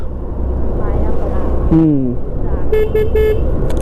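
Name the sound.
car horn honking at ghat temple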